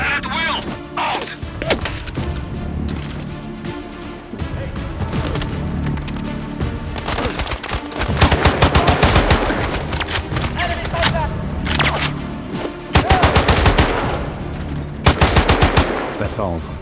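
Rapid automatic gunfire and heavy shots rattle through a firefight in the video game Sniper Ghost Warrior Contracts 2, loud and sustained with repeated bursts and booms, radio voices talking between volleys.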